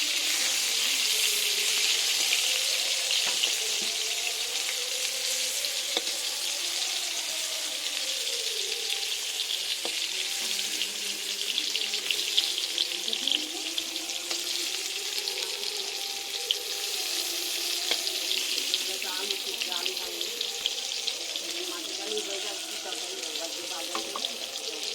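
Potatoes and bhola fish pieces frying in a pan give a steady, bright hiss that runs the whole time with no break, close and fairly loud. A faint low voice murmurs underneath.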